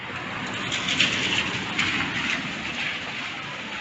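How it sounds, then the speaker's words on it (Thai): Steady rain falls outdoors as a continuous, even hiss with faint swells, close and uninterrupted, with no voices. "ฝนตกแล้ว"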